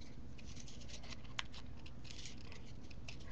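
Scissors snip through paper as a small figure is cut out and its corners rounded, a quiet run of close crisp cuts with one sharper snip partway through, no talk.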